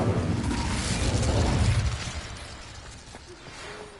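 The Incendio fire spell in Hogwarts Legacy bursts out as a loud roaring whoosh of flame that swells briefly and then fades into a softer crackling tail.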